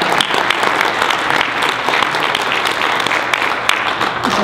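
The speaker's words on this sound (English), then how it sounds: "Could we give him a round of applause," A town meeting audience applauds a young local high school man being introduced, with loud, close, continuous clapping from a room of people and a few sharper individual claps standing out.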